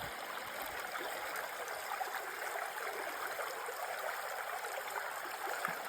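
The Narmada river flows along a bank near Mandla, a steady rushing, trickling stream of water, close and continuous with a soft broadband wash and no voices.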